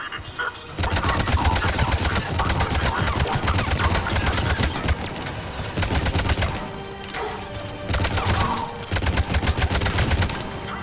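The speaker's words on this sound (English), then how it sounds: "Commander Shepard is taking heavy fire." Sustained heavy automatic gunfire rattles on in the Mass Effect 3 Legendary Edition shooter, rapid, loud and dense, with a few brief dips before the volleys resume.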